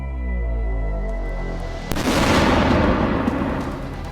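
An explosion strikes a Ukrainian command post in Kharkiv during a Russian attack: a low droning hum, then one sudden heavy blast midway that leaves a loud rumbling roll for a couple of seconds.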